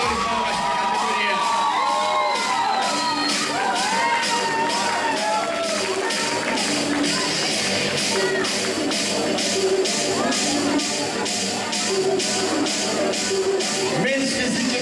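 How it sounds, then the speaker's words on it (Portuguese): A crowd at a fitness bodybuilding competition cheers and claps steadily, a sustained roar of applause with shouts and whoops throughout. "Uma salva de palmas para a categoria."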